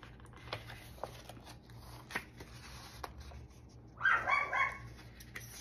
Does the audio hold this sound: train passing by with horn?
no